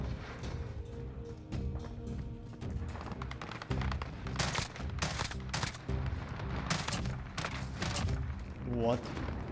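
Bursts of FAMAS rifle fire in Modern Warfare crack out in rapid clusters through the clip, with a player talking excitedly over the shots.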